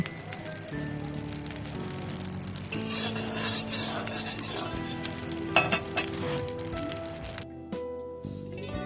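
Rice grains dry-roast in a pan as they are stirred, producing a continuous close rattling, crackling sizzle with scraping and light clinks from the utensil that swell in the middle and fade near the end.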